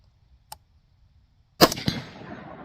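A rifle with a 20-inch 22 ARC barrel fires a single sharp shot outdoors at a steel target, a loud crack with a brief ringing tail, after a small faint click.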